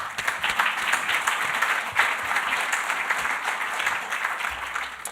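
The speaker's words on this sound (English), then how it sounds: "please give a round of applause" Applause from the audience at a business awards evening as the host is welcomed to the stage, sustained dense clapping from a large crowd, even and continuous from start to finish.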